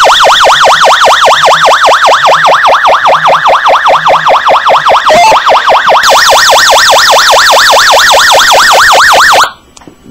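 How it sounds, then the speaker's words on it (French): A loud emergency alarm from an Asiaradio A3 UHF two-way radio wails in a fast, repeating up-and-down sweep, shifts to a higher pitched pattern partway, then cuts off abruptly near the end. "Autre fonction très astucieuse, c'est l'alarme"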